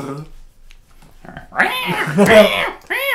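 A cat yowls and meows in agitated bursts, close by, mixed with a person's voice speaking over the cries.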